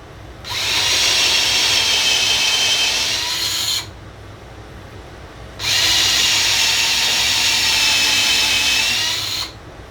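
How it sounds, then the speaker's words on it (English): A power drill drives screws into a wooden vise holder for a Festool MFT table: two sustained whining runs of about three and four seconds with a pause between, loud and close, no voices. "So just want to get a couple of screws in there."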